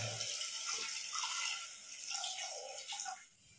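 Water is poured into a pot of mutton trotters in a kitchen, a steady splashing pour that fills the pot with no talking.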